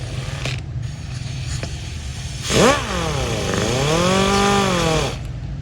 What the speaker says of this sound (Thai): ถือว่าเป็นการขัดบ่าในตัวครับ